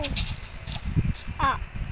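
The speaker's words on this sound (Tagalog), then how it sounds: "May sheep." Sheep bleating in the Minecraft video game, a short wavering bleat with a softer call before it, heard under someone talking and other game sounds.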